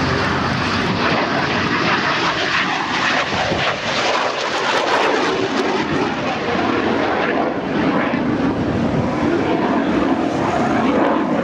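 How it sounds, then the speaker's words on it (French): A Yak-130 jet trainer roars steadily and loudly through the whole stretch as it flies an airshow display, with a broad, unbroken jet-engine rush and no speech over it. "Voici le Yak 130."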